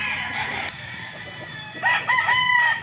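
A gray gamecock rooster crows close by, loud bursts of crowing at the start and again near the end with a quieter stretch between.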